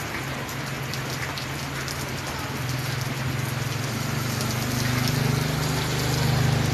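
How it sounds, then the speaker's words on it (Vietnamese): Steady evening rain pours down at 6:30 pm under a reddened sky, a dense continuous hiss of drops on surfaces that grows slightly louder toward the end, with a low hum underneath and no talking. "Cơn mưa rất là lạ, mà tự nhiên sao 6 giờ rưỡi tối mà mưa xuống trời nó đỏ lên mà."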